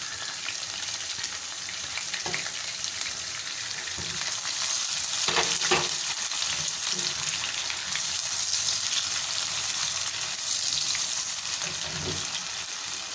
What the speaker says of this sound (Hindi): अब इसको हम इसमें शामिल कर देते हैं और इसको हम गोल्डन फ्राई करेंगे।